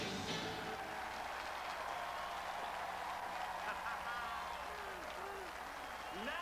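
Audience applause at a live televised magic show, a steady broad wash of clapping throughout, with a voice and some squeaky tones faintly underneath.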